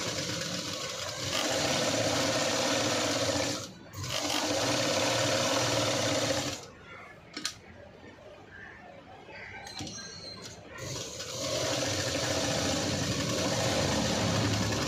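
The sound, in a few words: sewing machine stitching a V-neck cut work blouse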